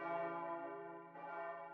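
A church bell rings in a steady sustained toll, its rich harmonic hum lingering, then a second strike swells in near the end, moderately loud with no voices.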